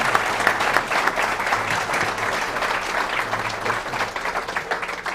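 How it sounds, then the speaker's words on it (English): A conference audience at the CTIA 5G Leadership Forum applauds its panelists, a dense, steady wash of clapping from many hands throughout, with no talk over it. "let's give them a round of applause"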